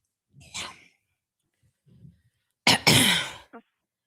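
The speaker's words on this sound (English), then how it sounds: "I coughed tears in my eyes." A couple of faint breathy sounds followed by a loud, harsh cough burst, close up, with a short gasp trailing after.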